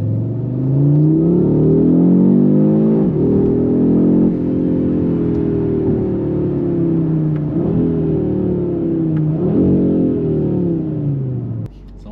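An Audi RS3-R ABT rated at 500 hp accelerating hard, its engine revving loudly through rising pulls with brief dips at gear shifts, heard from inside the car for about twelve seconds.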